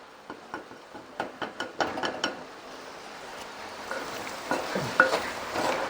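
A spoon stirs coriander powder, turmeric, star anise, clove, cardamom and fennel into prawn roast in a pan, giving quick scraping taps in bursts over a soft sizzle, with no talking.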